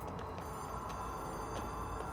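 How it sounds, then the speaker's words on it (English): A telephone rings in the game Control, a steady trilling bell that keeps going throughout at moderate distance under a low ambient hum, with no talking. "Oh, there's a phone ringing."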